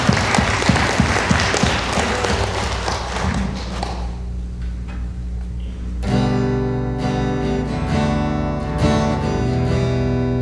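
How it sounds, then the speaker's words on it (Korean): A church congregation claps during a Sunday worship service at a Las Vegas fellowship church. Fairly loud clapping and thumps fill the first few seconds, then fade as sustained instrumental worship music rises. "주님께 영광의 박수 올립시다."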